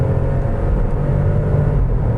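Under full throttle, a Kia Stonic's engine drones steadily and loudly from inside the cabin, a constant low rumble and whir with no talking.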